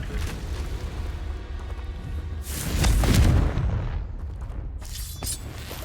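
A Confringo fire spell goes off in the game Hogwarts Legacy with a loud booming blast that swells near the middle, set against a steady rumbling game soundscape.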